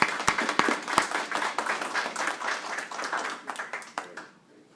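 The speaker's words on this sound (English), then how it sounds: "Please let us acknowledge you with a round of applause." A room full of people claps at a Nueces County Commissioners Court meeting: dense, mixed hand claps with a few sharp louder ones, steady for about four seconds and then fading out quickly.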